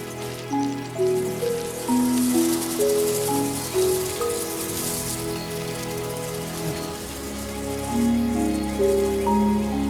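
Seasonal rain falls in a steady, even hiss of drops on surfaces, with a soft musical score playing underneath.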